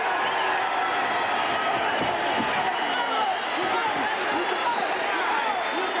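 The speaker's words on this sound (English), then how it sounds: "the big crowd at Pacific Plaza Arena in Phoenix appreciating the effort" Large boxing arena crowd at Pacific Plaza Arena in Phoenix cheering and chattering after a fight ends, a dense, steady roar of voices with scattered whoops, distant and continuous.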